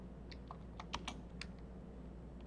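Typing on a computer keyboard during library data entry: a handful of quiet, irregular key clicks over a low steady background hum.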